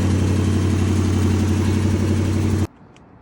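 A 1984 Chevrolet Camaro Z28 V8 idles loud and close with a steady low rumble, then cuts off abruptly just before the end, leaving near silence.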